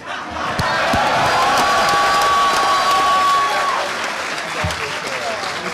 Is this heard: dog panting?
no